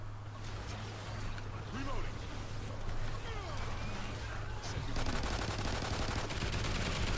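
A machine gun turret in the video game Call of Duty: Ghosts fires as a dense, continuous rattling of automatic gunfire, loud and sustained across the whole stretch amid chaotic game sounds, and grows harsher toward the end.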